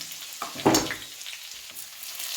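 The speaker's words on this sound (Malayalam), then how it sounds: "കടു വറക്കാൻ കടു ഇട്ടിട്ടുണ്ട് കൊച്ചുള്ളി ഇട്ട് കൊടുക്കാം വറ്റൽമുളക് ഇട്ട് കൊടുത്തിട്ടുണ്ട്" Mustard seeds, shallots and dried chillies frying in hot oil for a Kerala tempering, giving a short loud sizzling burst that settles into a steady crackling hiss, close and alone without talk.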